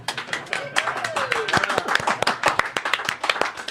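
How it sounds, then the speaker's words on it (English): A live audience claps after an original radio play, with brisk hand clapping and a few whoops sounding close and lively over murmured voices. "Everybody clap."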